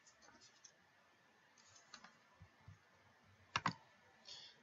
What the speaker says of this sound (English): I'm just going to quickly type that into my calculator.